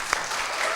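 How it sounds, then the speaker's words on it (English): Audience at an inter-university quiz competition opening breaks into applause, a brief, loud, dense burst of clapping from many hands. "Big round of applause."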